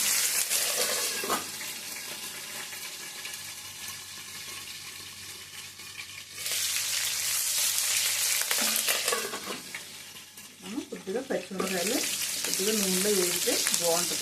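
Green chillies sizzle in hot oil in a pan for a fish fry, a steady crackling fry rising in loud bursts, with stirring clatter and someone speaking in between.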